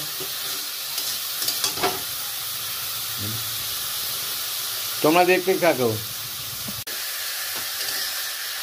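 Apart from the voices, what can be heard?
khesari greens frying in a wok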